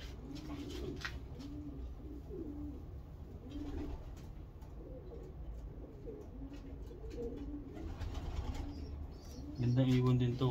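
Racing pigeons coo in a loft in repeated soft, low throaty phrases nearby, steady and rhythmic, with faint background talk and a louder burst at the end.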